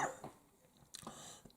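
A person with a froggy throat coughs, one short burst at the start and another sharper one near the middle, faint and close in a quiet room.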